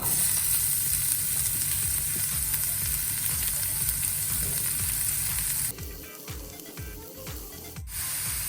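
Onion frying in hot oil in a pan, a loud steady sizzle and hiss that runs continuously, then briefly drops in level with a few stirring scrapes before the sizzle returns.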